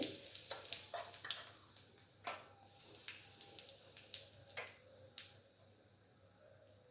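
Mustard seeds crackle in hot oil as asafoetida goes in, while okra curry is being made: sharp irregular pops and spits over a soft sizzling bed, close but moderate in level, easing toward the end.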